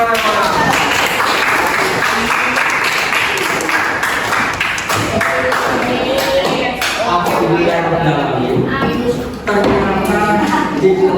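Classroom applause from an eighth-grade class, with steady clapping and tapping over a lively, busy room for about eleven seconds, mixed with chatter and voices throughout.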